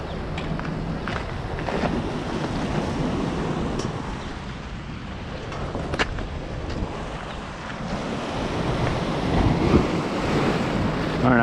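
Ocean surf breaks and churns against rocks at an inlet near Sebastian, Florida, a loud continuous roar with wind buffeting the microphone and no voices.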